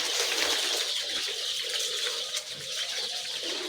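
Hundreds of baby chicks in a brooder: a constant, busy chorus of high chirps and peeps, close and steady throughout, with soft rustling underneath.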